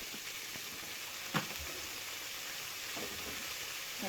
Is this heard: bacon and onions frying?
yes